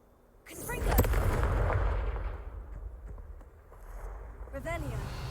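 A Confringo blasting curse in a Harry Potter video game gives a loud booming burst that rumbles and slowly fades, followed by a softer second blast. A voice speaks over it.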